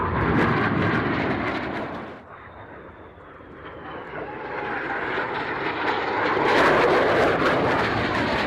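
Avro Vulcan delta-wing jet at an airshow, a loud continuous broadband engine roar that dips briefly then swells back up as the bomber passes overhead, with no talking.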